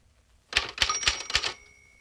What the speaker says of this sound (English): type the line as it is printed